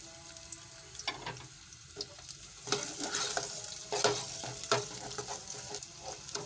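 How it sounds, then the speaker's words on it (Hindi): Onions fry in hot ghee with a soft, even sizzle, while a spoon stirs and scrapes the pan in irregular strokes; fairly quiet and close, with no talking. "घी गरम हो चुका है, अब इसमें हम प्याज शामिल करेंगे"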